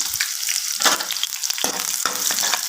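Onion, curry leaves and green chilies sauté in a pan, a loud, close crackling sizzle broken by several bursts of stirring scrapes at uneven intervals, with no voice over it.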